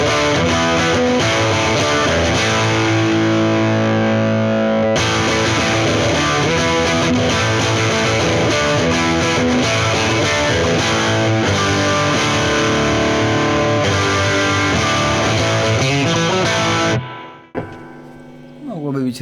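Distorted electric guitar played through a Harley Benton tube combo amp with reverb, a steady dense riff ringing loud for most of the passage before cutting off near the end into a brief near-silence.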